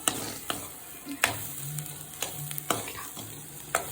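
Onions and chilli sizzle in a pan while a spatula scrapes and taps the metal at irregular intervals, a moderate crackling hiss punctuated by sharp clacks.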